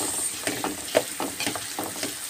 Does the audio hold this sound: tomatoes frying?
yes